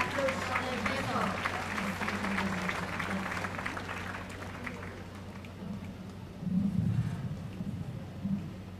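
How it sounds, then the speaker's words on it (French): A church congress audience claps for a choir, a moderate, steady patter of applause that thins out partway through, with a voice speaking over the clapping. "Applaudissons-les bien fort."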